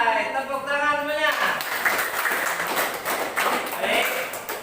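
Students in a classroom break into applause partway through, a burst of dense clapping that follows a short spoken line from the teacher and continues to the end.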